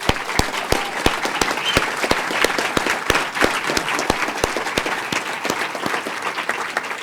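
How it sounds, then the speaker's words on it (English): Sustained applause fills a hall at an awards ceremony for educators, a dense and steady crowd clapping with a few sharp, close claps standing out, going on for several seconds without speech. "Let's give them a big round of applause."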